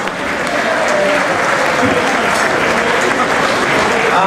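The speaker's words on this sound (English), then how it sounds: "A nice round of applause for all of the Collinses, please" A breakfast crowd at a St. Patrick's Day event applauds steadily and loudly, dense clapping filling the room from start to finish with faint voices mixed in.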